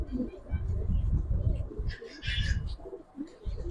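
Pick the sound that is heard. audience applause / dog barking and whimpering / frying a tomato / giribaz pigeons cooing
giribaz pigeons cooing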